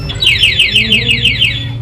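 A two-way car alarm sounds a rapid, repeating electronic warble, loud and close, in a short continuous burst with no talking.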